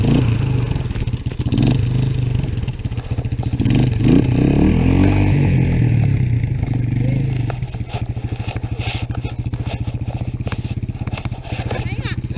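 A Honda XR 100 dirt bike stuck in snow revs loudly and close by, its engine roaring and straining in uneven surges, then dropping into a rough, rapid, pulsing idle.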